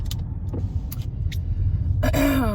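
Car driving with the listener inside the cabin: a steady low road and engine rumble runs throughout, with scattered small clicks and rattles and a brief rising whine near the end.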